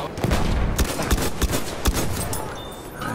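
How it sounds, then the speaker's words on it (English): Assault rifle fire in the Battlefield video game: a string of sharp, separated shots with short gaps between them, fairly close but moderate in level over steady background noise. "It's an assault rifle, but it acts and looks like a sniper rifle."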